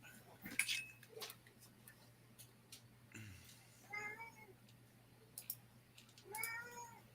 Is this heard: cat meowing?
yes